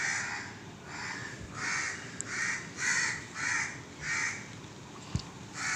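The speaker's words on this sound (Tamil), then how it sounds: "ரொம்ப நேரமாக காக்கா கத்துது" Several crows caw repeatedly outdoors, harsh calls coming in an uneven series of about eight, moderately close with faint ambient noise.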